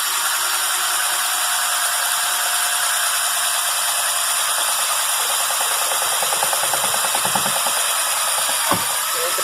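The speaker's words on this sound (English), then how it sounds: "So I'm going to drill the second one" A power drill whines steadily and close, with a grinding rattle as the bit works through metal while mounting a solar panel bracket on a van, ending in a short sharp clunk.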